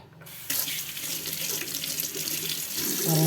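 Water from a tap pours steadily into a plastic bag that once held tile adhesive powder, a close, continuous splashing rush that grows slightly fuller toward the end.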